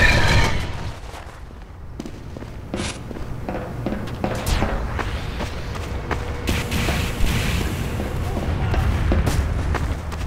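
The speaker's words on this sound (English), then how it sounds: "You want explosions? I'll give you explosions," Explosions and booms go off in a Team Fortress 2 match, several scattered blasts at moderate level amid game ambience, with a brief voice.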